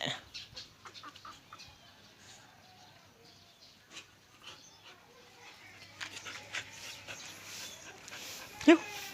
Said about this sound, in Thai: มีไก่ด้วย มีไก่ด้วย